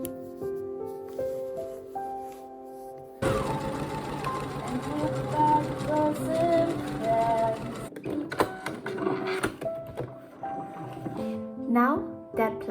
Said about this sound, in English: Now I'll simply sew the other placket